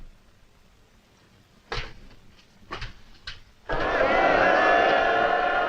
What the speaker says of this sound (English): That is the crowd in the city square. You know who they're cheering?